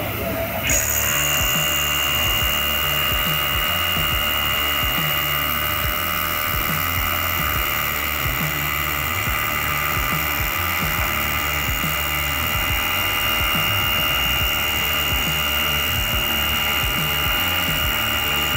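A cordless drill whirs steadily and loudly, running almost continuously at high speed for the whole stretch.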